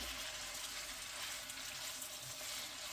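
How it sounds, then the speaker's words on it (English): Minced garlic sizzles steadily in hot oil in a pan while being stirred constantly, a close, even hiss with no voices. "I'm going to mix this, stirring it constantly."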